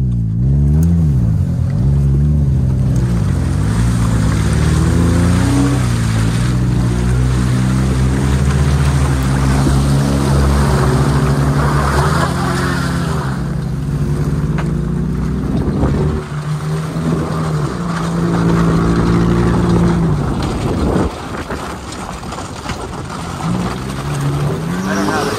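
Toyota driving through mud, with a loud, steady engine drone and wheel churning close up throughout, and people talking over it.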